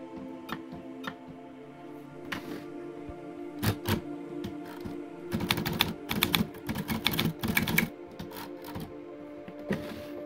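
Keystrokes on a vintage SCM Smith Corona Super G typewriter, sparse sharp clacks at first, then a dense rapid burst of typing midway with carriage and key clatter, close and clear with no talking.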